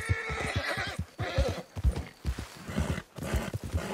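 Horse whinnying and neighing with clip-clopping hooves in the video game Red Dead Redemption 2, a series of loud, close whinnies over rhythmic hoofbeats.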